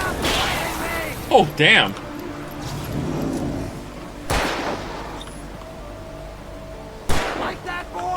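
Gunfire from the video game Alan Wake as an enemy is shot, a few sharp isolated shots spaced seconds apart, heard under someone talking and game sounds.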